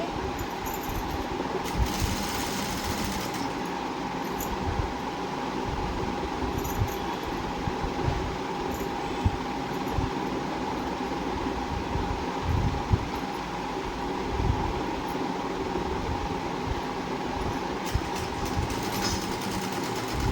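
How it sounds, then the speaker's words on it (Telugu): A sewing machine stitches piping onto a lined blouse, its motor and needle clattering in a fast, steady run that continues close and unbroken throughout. "ఇలా పైపింగ్ మొత్తం చివరి వరకు కుట్టుకోవాలి."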